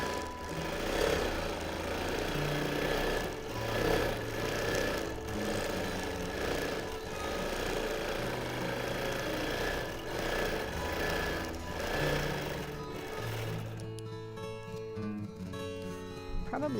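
A free-motion quilting machine stitches edge to edge in a steady, fast mechanical whir with a rhythmic chatter, running continuously before the tone shifts near the end.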